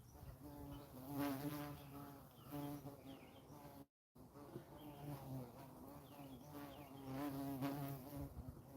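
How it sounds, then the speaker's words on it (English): A large black carpenter bee, the kind that bores holes in wood, buzzes with a steady droning hum that rises and fades as it moves close by outdoors. "it's one of those bees that will make a hole in wood"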